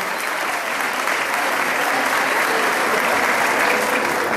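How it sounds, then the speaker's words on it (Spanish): Loud, sustained applause from an audience at a school Mother's Day festival and royal court coronation, a dense continuous roar of clapping from many people throughout. "Estamos con aplausos"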